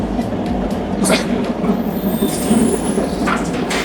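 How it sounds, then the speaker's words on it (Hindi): Old, noisy tram rolling through Milan streets, a loud continuous rumble and clatter of wheels on rails with squealing metal tones, close by and sustained throughout. "इनकी ट्राम इतना शोर मचाती हैं, बहुत ज़्यादा, और बहुत पुरानी है।"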